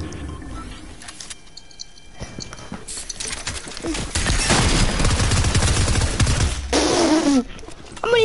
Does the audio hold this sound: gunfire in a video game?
yes